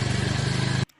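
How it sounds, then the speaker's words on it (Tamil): A motorcycle engine runs steadily and close by, its low throbbing pulse holding for most of a second before cutting off abruptly into near silence. "சந்திரு பைக் மாதிரி இருக்கு."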